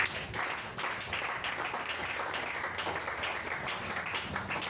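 A church congregation applauds the Lord, steady scattered clapping from many hands filling the room at moderate level throughout, without a clear break.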